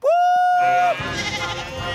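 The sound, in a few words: young sheep bleating, frightened by a steam engine, Thomas & Friends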